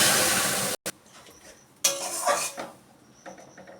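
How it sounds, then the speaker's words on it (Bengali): Boiled matar dal poured into hot oil with a fried spice tempering in a pot, opening with a loud sizzling burst, then a sharp break, utensil clinks and a softer bubbling hiss as the pot settles. "এবার আমি ডালটা ঢেলে দেবো।"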